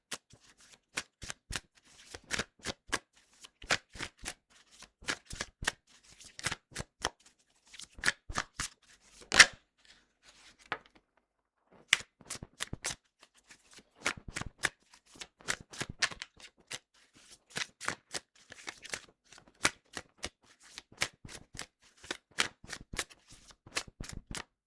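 Oracle card deck shuffled by hand in repeated bursts of crisp riffling snaps, close and fairly loud, with brief pauses between rounds and no talking.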